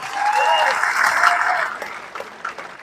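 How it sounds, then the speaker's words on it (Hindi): An audience bursting into loud applause at a stage event, a dense burst of clapping that peaks early and tapers off within a few seconds, with a few scattered claps at the end. "एक बार उनके लिए जोरदार तालियां हो जाए।"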